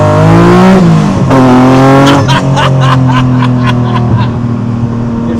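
A TVR Sagaris sports car accelerates hard on a drive, its loud, close engine climbing through rising revs with sharp gear changes and crackles, heard from inside the car.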